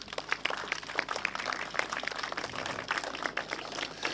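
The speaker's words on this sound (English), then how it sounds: "give them a big round of applause, please" Steady, moderately quiet applause from a small crowd at a ribbon cutting ceremony, dense clapping sustained evenly without pause.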